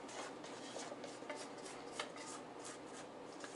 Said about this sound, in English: Just scrape it all in there.